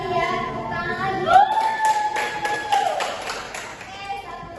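A primary school class clapping hands together: a short burst of about half a dozen claps that are not fully in time, mixed with voices and children's chatter in the room.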